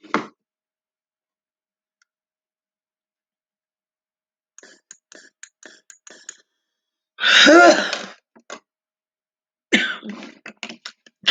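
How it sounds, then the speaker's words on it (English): A person with a persistent cough hacks repeatedly in a quiet room: a few scattered sharp coughs, then a loud harsh fit, then another burst of rapid coughs near the end, close to the microphone. "I can't stop coughing, so I'm going to have to do my inhaler while I'm talking to you."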